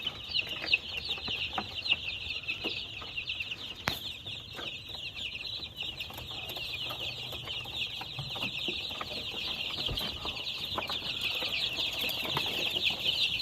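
A dense chorus of chicks in a brooder under a 200-watt bulb, peeping nonstop, high and shrill, with occasional soft clucks and rustling, close and busy throughout.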